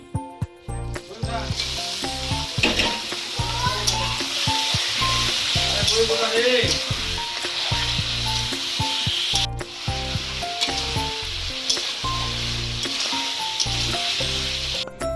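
Goat meat sizzling and frying loudly in a pan, a constant hiss broken by stirring clatter and scraping of a utensil against the pan, with a brief gap near the middle.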